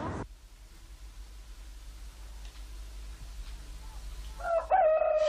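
A rooster crows once near the end, loud and close, after several seconds of steady low rumbling background noise on a farm.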